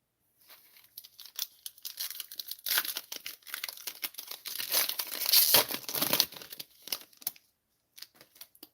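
Paper crinkles as it is handled during a Bowman Chrome baseball card break. Close crisp rustles and crackles come in irregular bursts and build to a dense stretch in the middle before tapering off.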